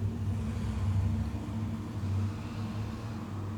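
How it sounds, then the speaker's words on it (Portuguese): Continuous low rumble of passing car traffic in the early morning, a steady moderately loud road drone with gentle swells as vehicles go by, no voices. "eu continuo ouvindo o barulho dos carros"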